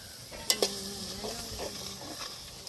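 Squid gravy being sautéed and stirred in a pan, a steady low sizzle throughout with two sharp clinks of a utensil against the pan near the start, and no talking.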